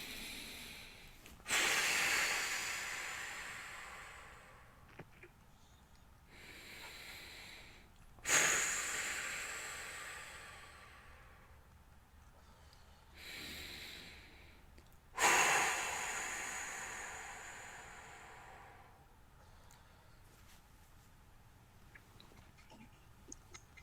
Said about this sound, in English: as you are taking these 3 deep cleansing breaths